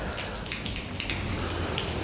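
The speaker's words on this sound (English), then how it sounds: "it's raining, it's wet." Rain falls at Bahrain International Circuit, a dense, even patter of drops on hard surfaces that stays steady throughout.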